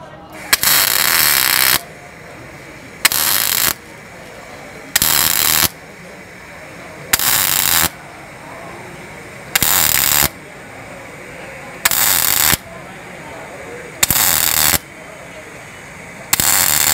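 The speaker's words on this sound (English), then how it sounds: "So we're going to weld and let it cool, and then weld and let it cool again." A MIG brazing welder works on automotive sheet metal at a trade show, sounding in about eight loud, sharp crackling bursts of roughly a second each, with brief quieter pauses for cooling between them.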